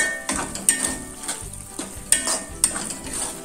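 Green chillies are stirred in a hot frying pan for chilli garlic chicken, with a steady sizzle under irregular spoon scrapes and a few sharp metallic clinks against the pan, and no voices.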